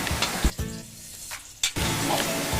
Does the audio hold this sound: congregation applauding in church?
no